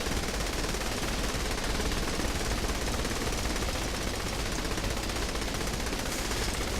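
Continuous rapid machine gun fire in the game Saints Row: The Third, dense and loud throughout, with overlapping bursts that never let up, like synthetic game gunfire.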